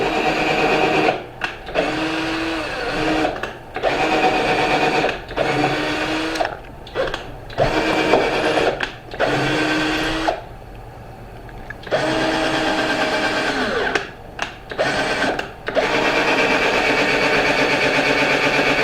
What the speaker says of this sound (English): We're going to pre-drill just a little for these lag bolts.